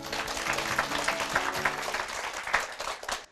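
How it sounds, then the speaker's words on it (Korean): Audience applause breaks out at the start of a Korean grammar lecture, steady, dense clapping that fills the whole stretch and then cuts off abruptly at the end. "주님께 박수."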